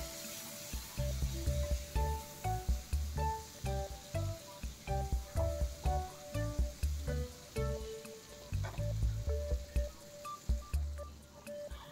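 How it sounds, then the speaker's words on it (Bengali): Tomatoes cooking down in a pan with salt and turmeric for a Bengali pabda fish curry, a soft low sizzle under repeated rhythmic spatula knocks and scrapes against the pan. "নুন আর হলুদ দিয়ে টমেটোটা বেশ ভালো করে কষতে হবে।"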